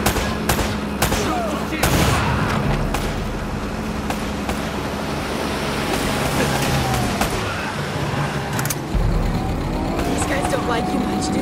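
Loud, sustained gunfire fills a firefight in the video game Uncharted: Drake's Fortune, with repeated bursts and sharp single shots layered over engine and action noise, game dialogue occasionally heard beneath.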